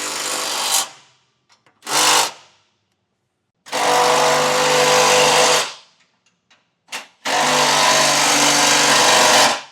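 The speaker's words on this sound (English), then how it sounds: "wrench to tighten these down. I'm going to use my 10mm and tighten back down these 4" Ratcheting 10mm socket wrench tightening the top bolts of a B&W Turnoverball underbed gooseneck trailer hitch on a 2025 Ford truck, heard as three sustained bursts of close, loud ratcheting with short clicks between them.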